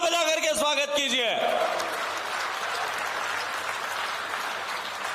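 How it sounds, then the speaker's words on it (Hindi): Rally crowd at a BJP event on a polo ground in Jodhpur breaking into loud applause, starting under an amplified voice whose words fade out, then a sustained, dense roar of clapping with crowd noise. "जोरदार तालियां बजा करके स्वागत कीजिए।"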